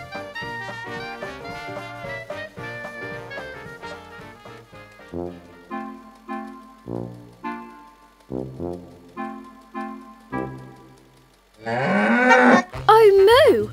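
A cow moos loudly and up close near the end, a sudden drawn-out bellow that follows a cartoon music score of plucked and bouncing tones.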